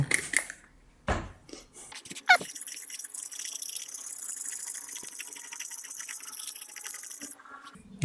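Water is added to a brick used as a sharpening stone for a knife, with a few splashes and drips up front, then a steady wet scraping and rubbing of the blade across the wet brick.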